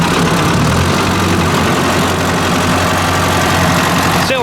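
A Ford 800 tractor engine runs loud and close with a steady low rumble and throbbing idle throughout.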